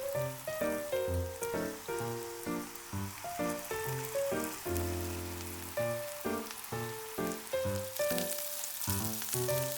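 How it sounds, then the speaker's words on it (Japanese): Round hamburger patties fry spaced apart in an oiled frying pan, giving a soft, steady sizzle beneath loud rhythmic music. "ハンバーグ同士がくっつかないように間隔を空けて焼きます。"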